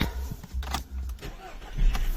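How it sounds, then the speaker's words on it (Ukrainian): A 2010 Skoda Octavia A5 1.8 TSI 4x4 engine cranks and catches after repair, with a couple of low bursts, some clicks and a short rumble near the end. "Зараз я вам продемонструю, як двигун запускається та працює."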